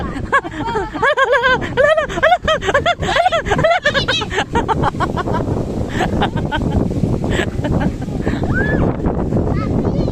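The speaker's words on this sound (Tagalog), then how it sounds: "Lakas ng hangin." Strong wind buffets the microphone with a steady roar, while excited voices talk over it at the start.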